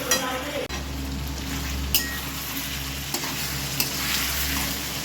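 Fried potatoes tipped into a pan of chicken kosha and stirred, a steady loud sizzle with spatula scrapes and a few sharp knocks against the pan, close by.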